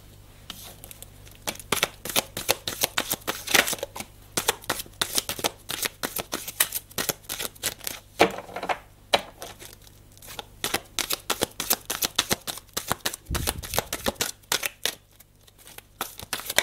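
Tarot cards being shuffled, rapid papery riffles and slaps in quick bursts, close and crisp, pausing briefly before continuing.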